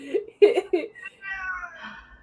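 A cat meows several times up close, drawn-out and wavering cries in quick succession with a soft rumble beneath, no talking.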